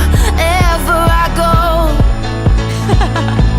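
A short excerpt of a worship-pop song plays, with sung melody over a steady beat of regular drum hits, loud and continuous.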